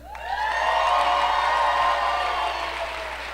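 An audience bursts into applause mixed with cheering and whoops, swelling quickly, holding, then gradually tapering off.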